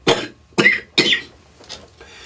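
Three hard, close coughs from a person with a bad cold, in quick succession, followed by a softer, fainter fourth.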